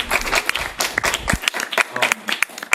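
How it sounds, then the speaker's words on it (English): Close, lively audience clapping after a poetry reading and dialogue, a scattered burst of individual hand claps from a modest crowd, uneven and fairly loud throughout. "Another round of applause for Maddy."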